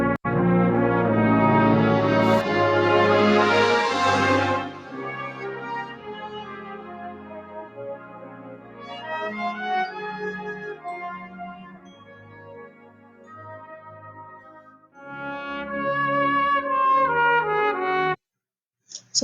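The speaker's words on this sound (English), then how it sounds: "the groups of trumpets blending together to form the melody." Brass band plays a Christmas piece, groups of trumpets blending on a sustained melody with percussion beneath; full and loud at first, then softer passages, a brief pause near the end before it resumes.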